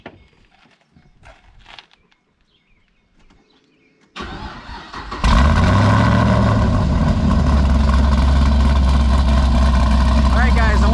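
A 460 rwhp Chevrolet Caprice with noisemakers stuffed into its exhaust stays quiet at first, then its engine fires up with a rising growl and settles into a loud, steady, close-up exhaust roar.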